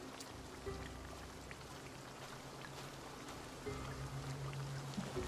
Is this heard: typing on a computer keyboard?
no